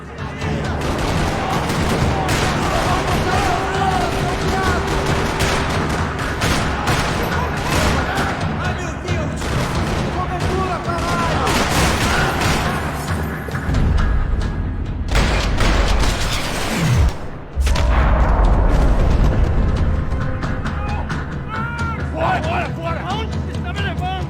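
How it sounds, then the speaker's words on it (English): Continuous gunfire in a parking lot in the video game Max Payne 3 crackles throughout, dense volleys with a loud crash partway, set against a busy backdrop of noise. "Another parking lot rattling with gunfire."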